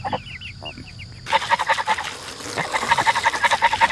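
Chickens cluck and a goose honks as poultry are let out of a coop door, faint bird calls first, then a louder run of rhythmic honking and clucking close by.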